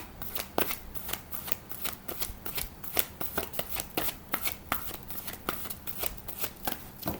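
Oracle blessing cards shuffled by hand in a steady run of quick, crisp riffling flicks, close and continuous with a faint background hum and no talk.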